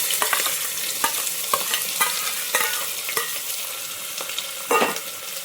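Onion and garlic hiss and sizzle in hot oil with curry leaves for Kathiyawadi vaghareli khichdi, while a spoon scrapes and stirs the pan in steady, close clattering strokes with no talking.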